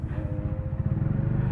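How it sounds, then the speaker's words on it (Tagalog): Benelli cruiser motorcycle engine rumbling low and steady, a deep pulsing idle-like throb close by with a faint tonal hum above it, no talk. "Yung turog ng motor niya parang turog kotse."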